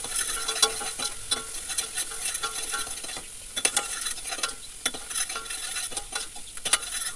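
Field bean mixture stir-frying in oil, a soft continuous sizzle with frequent scraping and clinking of a spatula against the pan, close and fairly quiet, no talk.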